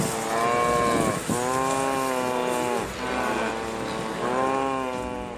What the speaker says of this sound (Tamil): மழையில் நனைந்தபடி ஆடு மாடுகள் நின்றன